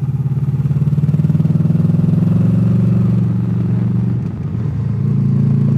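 A sport bike rides along a winding road, its engine droning loudly and steadily close by, with a brief dip in revs around the fourth second before pulling strongly again; no talking.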